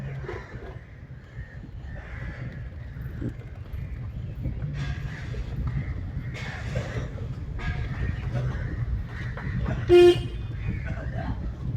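A car horn gives one short toot near the end during a driving lesson, heard over a low, steady engine and road rumble inside the car.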